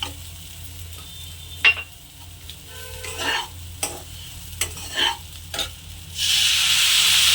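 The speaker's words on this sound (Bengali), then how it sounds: "এগুলো আমি বেশি একটা ভাজবো না, 1 মিনিটের মতো ভেজে জল ছেড়ে দেবো।" Ingredients for a Bengali ghonto being stirred and fried in a pan: a low steady sizzle under repeated scraping strokes of a spatula, ending in a louder burst of hissing.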